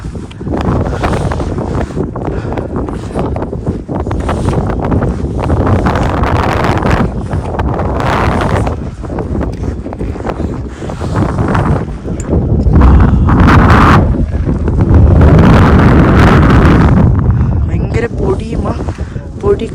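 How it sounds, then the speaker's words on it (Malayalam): Strong, dusty mountain wind near Thukla on the Everest Base Camp trek buffets the microphone in heavy roaring gusts throughout, with people talking underneath. "ഭയങ്കര കാറ്റും പൊടി"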